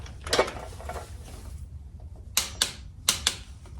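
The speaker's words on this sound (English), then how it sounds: "And torque that down to spec." Torque wrench clicking as a bolt on a Kawasaki Ninja ZX-6R motorcycle foot peg is tightened to spec: a few scratchy ratchet sounds early, then four sharp clicks in two quick pairs, close and fairly loud.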